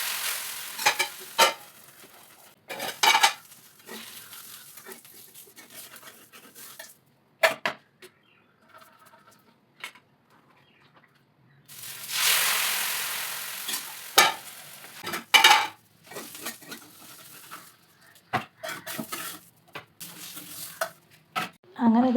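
Dosa cooking on a pan in a home kitchen, bursts of sizzling and scraping with a long loud hiss midway, interspersed with stirring and utensil clinks and quiet gaps.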